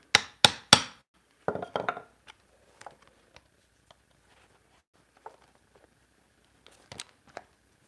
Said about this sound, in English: I'm going to actually hit my awl with my hammer if I have to, with a mallet